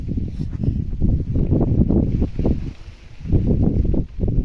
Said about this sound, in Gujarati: પવન ફૂલ છે આજ આપણે.